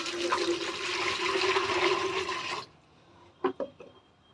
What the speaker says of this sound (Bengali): এই কাপে 50 ml হাইড্রোজেন প্যারক্সাইড আমি নিলাম, নিয়ে এই বালতিতে ঢেলে দিলাম।